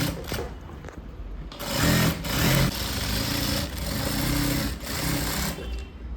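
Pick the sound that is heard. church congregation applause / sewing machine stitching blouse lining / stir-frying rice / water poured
sewing machine stitching blouse lining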